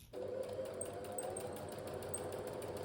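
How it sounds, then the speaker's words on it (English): A sewing machine stitches a dress facing with a 1 centimetre seam allowance, a steady close whirring drone running without pause. "I'm going to sew up my facing using a 1 centimeter seam allowance"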